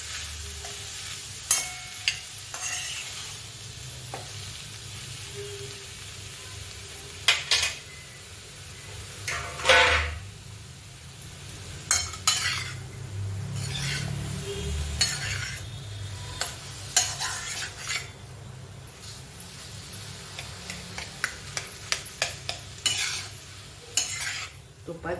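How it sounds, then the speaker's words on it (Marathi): Grated sweet potato stirred and fried in ghee in a pan, a soft steady sizzle broken by frequent clinks and scrapes of a spoon against the metal, fairly quiet and close, with no one talking. "किसून झाल्यावर आपण हे तुपामध्ये आता फ्राय करतो"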